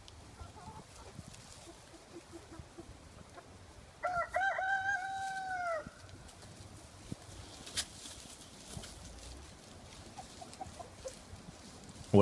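A turkey gobbles once in a loud, warbling burst lasting about two seconds, standing out over a quiet outdoor background with faint rustling before and after.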